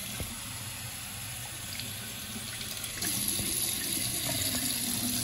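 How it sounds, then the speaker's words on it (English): Water is dumped from a bucket into a miniature 4-inch Springfield toilet. A running gush grows noticeably louder after a few seconds and stays close and steady. "Now I'll give y'all a bucket flush."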